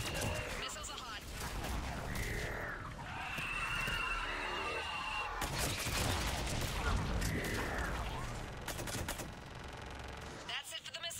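Missile launches and gunfire in Mass Effect 3, a steady barrage of whooshing rockets and bursts under layered combat noise, with voices talking over it.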